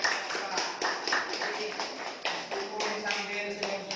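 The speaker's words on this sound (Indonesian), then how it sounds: "beri aplaus yang mulia" A group applauding in a classroom, a fairly steady patter of many hands clapping for a few seconds with some voices mixed in.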